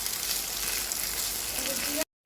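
Vegetables and spices frying in a little oil for homemade noodles, a steady close sizzle that runs evenly for about two seconds and then cuts out abruptly.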